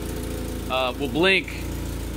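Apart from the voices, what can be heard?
car engine idling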